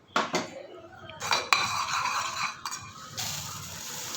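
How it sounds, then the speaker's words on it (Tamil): Puffed rice goes into a cooking pan for sweet pori urundai, with metallic clinks of a spoon and pan and a light rustling pour at close range. "பொரியை நான் சேர்த்துக்கிறேன்."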